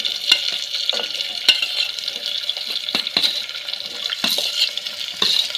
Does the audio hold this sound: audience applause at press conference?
no